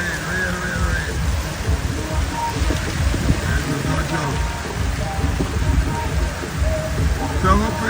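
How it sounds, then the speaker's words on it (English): Rain falls steadily on a wet night in downtown Scarborough, Tobago, a continuous broadband hiss with scattered drop patter, heard together with low sounds from a street. "Real rain, real rain."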